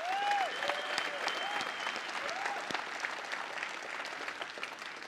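An audience at an AMD graphics presentation at SIGGRAPH 2017 breaks into steady, full applause for partners on stage, a broad wash of clapping that continues throughout, slightly distant in a large hall.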